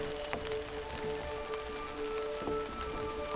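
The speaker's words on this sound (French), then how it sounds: "On va essayer de les secouer un petit peu pour récupérer l'eau qu'il y a dessus." Rainwater shaken from fir trees in a forest patters down as scattered, faint drops and ticks in an otherwise quiet setting.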